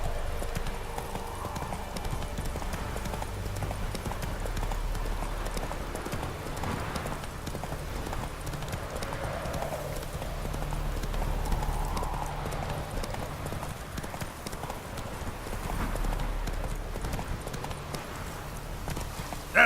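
Roach the horse gallops in The Witcher 3, hooves pounding in a fast, steady rhythm over a continuous rumble of movement, close and loud throughout.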